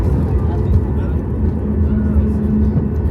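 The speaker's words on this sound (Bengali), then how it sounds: "এত স্পিড থাকার পরেও কিভাবে এই বিমানটি ল্যান্ডিং করেছে" A jet airliner decelerates on the runway after landing, its deep engine rumble steady and close, with a faint tonal hum rising partway through beneath someone talking.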